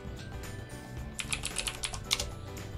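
Rapid clicks of a computer keyboard as a short word is typed, a quick burst of crisp keystrokes close to the microphone over a quiet room hum.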